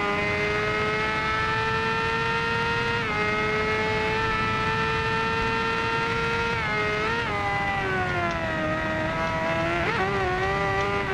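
A 2015 Kawasaki Ninja ZX-10R sport motorcycle engine in the video game Ride 2 revs loudly and continuously, pitch climbing and dipping with gear changes, close and dominant throughout.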